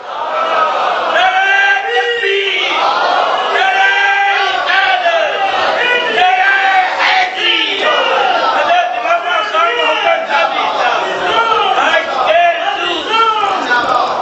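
A large crowd at a religious sermon about Yazid's fate shouts slogans together, a dense roar of many voices rising and falling continuously from start to finish, loud and close.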